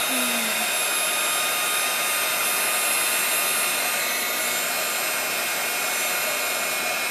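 A hot air tool blows steadily while heating a plastic flower hairclip, a loud constant whooshing roar with a faint high whine, unbroken and close, with no voices.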